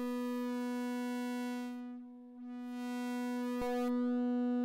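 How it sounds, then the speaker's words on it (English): A Eurorack synth tone pushed through a voltage-starved op amp in a Mangle module: a sustained buzzy harmonic drone that thins and dips mid-way, then swells back with a sharp click near the end. "that op amp is not getting enough voltage, and so we're getting a distortion of the waveform that's coming in."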